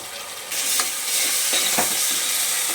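Two spoons of ginger garlic paste hit browned onions in a pan for chicken curry, the sizzle surging loudly and then holding steady while a few spatula strokes scrape through it.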